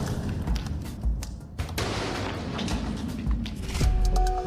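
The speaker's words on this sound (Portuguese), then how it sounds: "a Polícia Militar do DF fez uma demonstração de uma explosão controlada com menor potencial" A controlled explosion with reduced harm potential, set off by a robot during a Federal District military police demonstration, produces several heavy thuds and sharp bursts over a continuous rumbling roar.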